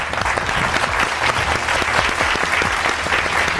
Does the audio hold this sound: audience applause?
yes